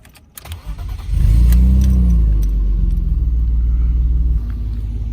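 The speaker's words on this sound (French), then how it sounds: "On va démarrer ce moteur." A BMW E34 520i Touring's engine cranks briefly and then roars to life, settling into a loud, deep, rumbling idle close by, its muffler badly damaged.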